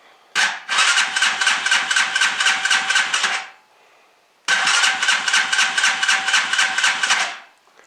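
A Honda Hawk 250 motorcycle engine with stock exhaust cranks and fires twice, each time a loud, close, pulsing run of about three seconds. The engine cuts out after each run, with a short pause between the two attempts.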